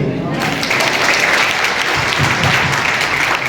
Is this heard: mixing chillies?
no